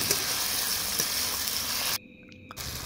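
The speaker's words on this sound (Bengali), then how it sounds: "লবণটা দেওয়ার পরে খুব ভালো করে কষাবো।" Tomatoes with salt are sautéed in a pan for a sea fish curry, giving a steady close sizzle and crackle for about two seconds. It then drops off sharply into near quiet before a faint return.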